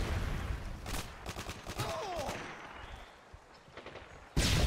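Sniper rifle gunfire in an online shooter video game cracks out in a series of sharp shots, several clustered early and more spaced later, ending with one loud close blast.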